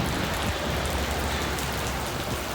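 Steady rain falls in a dense, even patter of drops on a surface. It holds at a constant level across the short stretch, with no voices.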